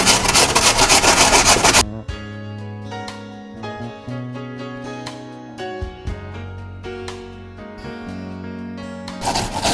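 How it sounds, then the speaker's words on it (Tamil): An apple rasped against a grater for apple kheer, with a loud, dense scraping burst at the start and again at the end and steady tonal music in between. "இப்போ இந்த ஆப்பிளை சீவிடலாங்க."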